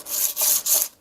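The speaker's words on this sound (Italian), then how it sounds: "per spianarla utilizzeremo questo strumento, che è una levigatrice" A hand-held rotary sander smooths hardened resin on a racing engine part, three close abrasive rubbing strokes in quick succession, each a loud gritty rasp with brief gaps between.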